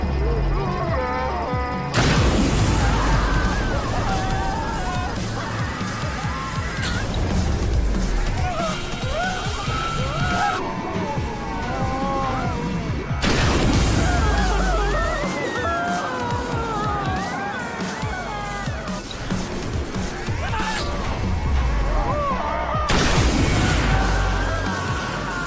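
Repeated explosions and crashing debris in the roller-coaster demolition game Screamride come in loud, dense bursts at regular intervals, layered with clattering collapses and a synthetic announcer voice speaking over the action.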